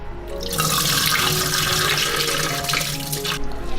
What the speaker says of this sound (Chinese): 糯米我们泡了有1个小时了，你看，一捏就碎，把它洗一下。